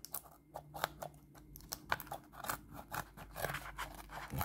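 Victorinox scissors snip through single-flute cardboard in a quick series of sharp, crunchy cuts, each a short crisp burst repeating in an uneven rhythm, close and fairly quiet with no talking.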